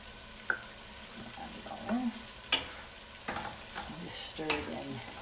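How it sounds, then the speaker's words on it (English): Beef almost deep frying in a pot, with scattered sizzling and pops and occasional utensil clinks and scrapes while it is stirred into a ginger beef mixture; close and moderately quiet, no talk. "So I've got the beef basically almost deep frying in the pot"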